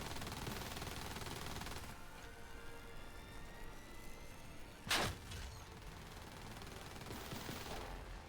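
A siege tank fires in the sci-fi RTS/FPS game Silica, one sharp loud blast standing out over steady battlefield rumble and engine drone, with a brief tail after the shot.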